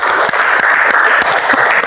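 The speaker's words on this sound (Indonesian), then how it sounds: "Beri tepuk tangan untuk kegiatan kita hari ini." A class of students claps at the end of a religious studies lesson, loud and close with a continuous, dense patter of hands.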